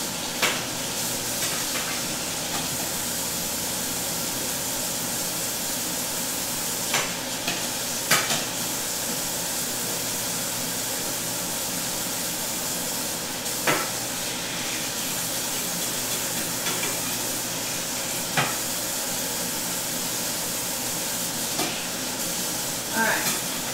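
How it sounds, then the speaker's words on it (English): Water runs in a steady, full hiss while something is rinsed off, with a few light knocks and splashes breaking through the constant rush. "Let me rinse this off."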